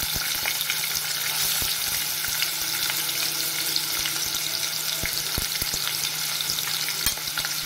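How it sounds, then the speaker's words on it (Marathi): Curry leaves and finely chopped onion fry in hot oil over high heat for a spicy surmai fish curry, giving a steady, close, dense sizzle with occasional clicks of stirring throughout. "आता टाकूया आपण कढीपत्ता, त्यानंतर हा एक मोठा बारीक चिरलेला कांदा"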